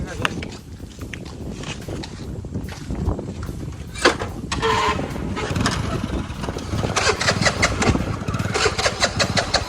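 A vehicle engine cranks and starts up, then settles into a rhythmic, throbbing idle that grows louder toward the end, heard close by beneath people talking and some footsteps outdoors.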